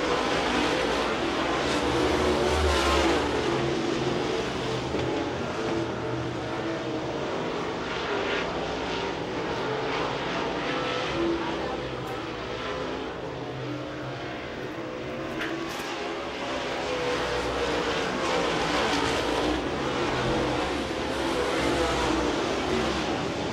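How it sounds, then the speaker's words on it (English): Race cars lap the Speedzone track with a continuous roaring engine drone that swells and fades gently as the field circles, heard from a distance as one steady blended rumble. "Here comes Curtin to the outside. Lap number nine."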